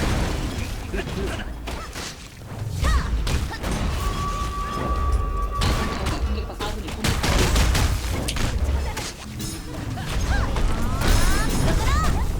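Rapid bursts of video game gunfire, including fusillades and machine-gun fire, with mechanical clatter and crashes, run loud and continuous throughout while a voice talks over it.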